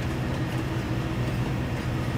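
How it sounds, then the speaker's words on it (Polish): A train looping continuously around the map in Farming Simulator 22 on the Haut Beyleron map, heard as a steady, moderately loud mechanical rumble that rolls on evenly without breaks or voices. "Bo pociąg od początku sejwa jeździ cały czas naokoło."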